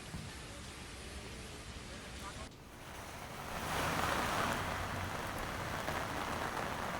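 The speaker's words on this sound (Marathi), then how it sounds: "आपण पाहतोय आता पावसाला सुरुवात झालेली आहे।" Rain falling steadily during a stormy monsoon spell in Maharashtra, a dense even hiss of drops on surfaces that grows heavier and louder partway through.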